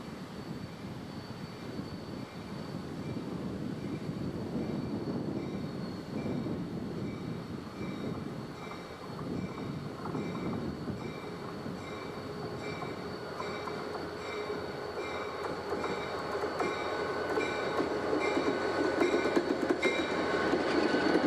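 A BNSF train rumbles at the west portal of the Stevens Pass tunnel, a loud sustained mechanical drone with a steady whine that builds toward the end, heard alone without voices.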